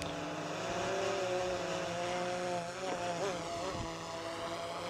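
A DJI drone's propellers whir in flight outdoors, a steady, moderately loud buzzing whine whose pitch wavers and shifts as it manoeuvres.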